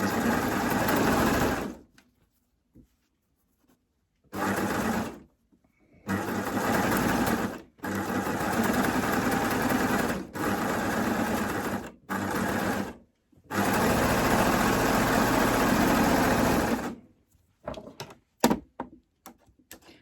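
A cover stitch sewing machine hems a knit binding onto a T-shirt neck edge, running loud and close in several long bursts separated by short pauses, ending with a few clicks.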